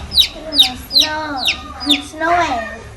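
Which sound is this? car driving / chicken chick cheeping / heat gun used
chicken chick cheeping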